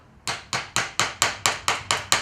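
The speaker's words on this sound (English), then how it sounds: "you can drive one of these wedges under there, just tap it under with a hammer" A hammer taps a wooden wedge under reclaimed boot-rack wood, nine sharp, evenly spaced knocks in quick succession, close and loud with no talking.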